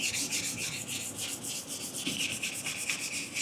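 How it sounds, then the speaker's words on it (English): Steady rhythmic hand sanding with 320 grit sandpaper, a raspy back-and-forth scrubbing over a van's clear coat, close and continuous with no talking. "So I'm just taking 320 grit sandpaper"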